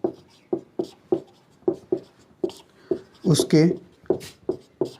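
A pen or chalk writes a question on a classroom board in a quick series of sharp tapping and scraping strokes, close by. A teacher speaks briefly in the middle.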